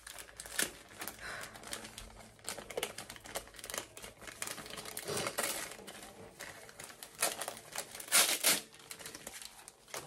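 A gift package from a viewer is unwrapped, giving continuous close crinkling and rustling of wrapping paper with occasional louder crackles and tears, no talking.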